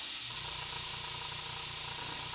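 An airbrush sprays paint in a steady close hiss without pause, a continuous airy spray, no voices.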